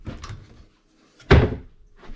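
A kitchen cabinet door on a remodeled cabinet opens with a single sharp knock and rattle, loud and close, after a few quieter handling sounds.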